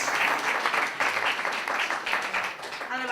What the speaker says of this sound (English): We should have another round of applause for Diane Clark